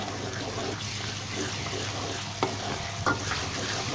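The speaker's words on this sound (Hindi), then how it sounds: "मैं अदरक लहसुन और हरी मिर्च की पेस्ट को अच्छे से भून देता हूँ।" Steady oil sizzle from ginger, garlic and green chili paste frying in a pan, with a couple of soft stirring scrapes and clinks, no talking.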